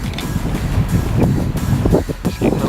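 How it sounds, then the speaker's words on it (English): Strong wind from a dying storm in Kansas buffets the microphone in loud, gusty low rumbles, with faint creaking mixed in. "it's still a bit windy here"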